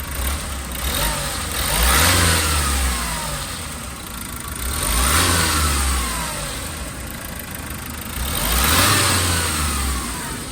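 Hyundai Porter 2020 truck with a 2.5 engine runs close by, revved three times in slow, even surges that rise and fall back to a steady idle.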